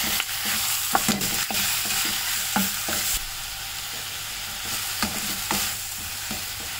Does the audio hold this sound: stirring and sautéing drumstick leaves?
yes